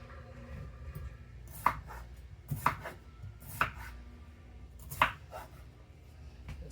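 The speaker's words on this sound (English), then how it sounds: "I'm cutting them a little bit smaller just so they cook right." A kitchen knife cuts potatoes into smaller pieces for corned beef and cabbage, with four or five distinct chops landing on the board at uneven intervals over a low background hum.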